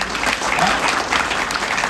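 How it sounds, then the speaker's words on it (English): A crowd applauds after performances at a wedding collection showcase event, a loud, continuous roar of clapping that stays even throughout the short stretch. "a big round of applause to everybody who has made this happen"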